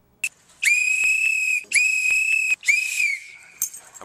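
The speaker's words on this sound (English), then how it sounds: "Residents are to blow the whistles whenever they see illegal police behavior, thereby alerting their communities to witness and document the police." Whistles blown at a community protest against police stop-and-frisk in Brooklyn: a short chirp, then three long, shrill, piercing blasts separated by brief gaps, loud and close with no talking.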